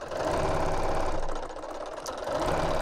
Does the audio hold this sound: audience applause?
no